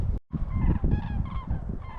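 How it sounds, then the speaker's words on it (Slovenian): A flock of herons flying over snowy Banja Luka, Bosnia, gives loud harsh honking calls overhead, several overlapping cries in quick succession. "Jata ptičev nad Banjo Luko."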